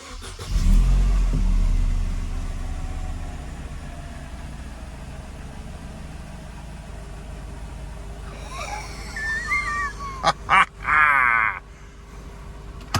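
A Mercedes SLK engine cranks and turns over with a loud low rumble near the start, then idles steadily through the middle, ending with a few short revving bursts and whirring sounds.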